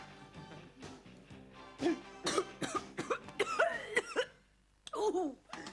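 A woman in a comedy sitcom scene breaks into a coughing fit, a series of harsh, hacking coughs and throat sounds coming in uneven bursts, close and fairly loud, with brief spoken bits and pauses between them.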